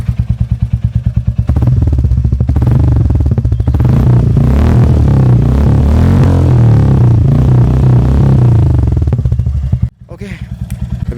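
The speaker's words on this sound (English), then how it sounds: "Let me just rev it for a while." A Royal Enfield Classic 350 motorcycle engine revs loudly and close up, its thumping idle swelling into sustained throttle blips before cutting off sharply near the end, then ticking over again.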